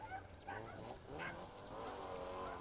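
A Mercedes 190 rally car with a 2.3 litre Cosworth engine roars past at close range on a forest rally stage, revving with shifting pitch and a brief tyre squeal, steady and loud throughout.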